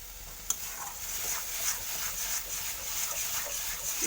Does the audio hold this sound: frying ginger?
yes